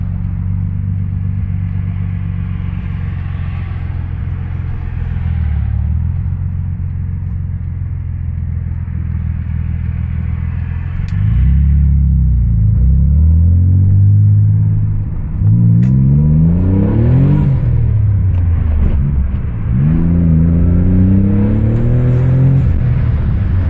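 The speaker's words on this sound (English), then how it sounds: "You can hear the little tiny turbos spooling up." A 1990 Nissan 300ZX twin turbo drives along, its engine and exhaust giving a steady low rumble while the small turbos spool, with rising and falling harmonic sweeps as it accelerates through the gears.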